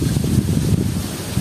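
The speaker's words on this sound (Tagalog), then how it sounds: "Malakas yung hangin, maalon," Strong wind buffets the microphone on open water while fishing, a steady low rumbling roar with gusty swells and no voices.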